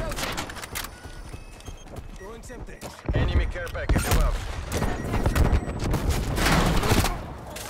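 DMR rifle fire in a Cold War shooter game cracks out in rapid, uneven bursts amid clattering battlefield noise, loud and busy, with an enemy shot sounding nearby.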